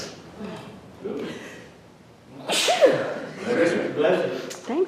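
A sneeze breaks out during a conservation district meeting, a sharp burst of breath heard close in a room over scattered background talk and murmuring.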